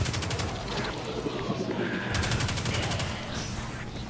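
Rapid video-game gunfire in Destiny 2, a dense continuous burst of shots layered with game effects, loud and steady throughout.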